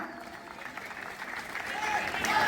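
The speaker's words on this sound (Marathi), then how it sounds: "एकदा जोरदार टाळ्या होत्या." A kabaddi crowd at a Mumbai tournament applauds, a dense clapping wash that swells louder toward the end while a voice talks over it.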